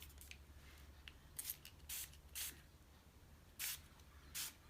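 Several short, soft spritzes of purple ink from a spray bottle, spaced irregularly, quiet and close with a faint low hum underneath.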